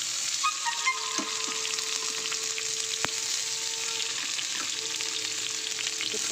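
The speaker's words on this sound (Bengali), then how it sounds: "সসপ্যানে তেলটা গরম হয়ে গেছে। এবার দিয়ে দেবো খানিকটা কুচানো পেঁয়াজ," Chopped onion fries in hot oil in a saucepan, making a constant bright hiss and crackle with a few faint stirring clinks, and no voices.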